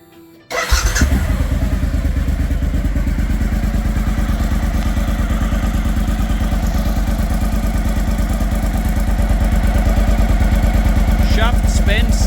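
A 2007 Suzuki DL1000 motorcycle, which has an oil leak on its left side, fires up after brief quiet and settles into a steady, loud, close idle with a rapid even engine pulse and faint clatter. It runs alone, with no talk over it.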